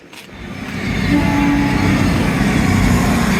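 A rare classic train rumbles past loudly and steadily, with a deep, continuous roar and a faint horn-like tone partway through.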